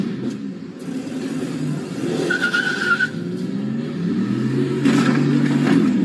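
A car tears across a residential yard while fleeing police, its engine revving loud and continuous with tire skids and scraping over the ground throughout.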